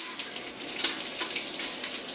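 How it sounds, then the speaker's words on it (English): Tap water running steadily while cabbage is rinsed in a kitchen sink, a continuous close hiss of splashing water with no talking. "Now I'm going to rinse off some of the cabbage that I had."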